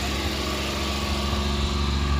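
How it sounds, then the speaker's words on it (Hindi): A Maruti 800 Alto engine runs while parked, a loud, steady buzzing drone close by that holds an even level throughout. "आज अल्टो मारुति 800 के मैं खाली रेस दे रहा हूँ, चला रहा नहीं हूँ।"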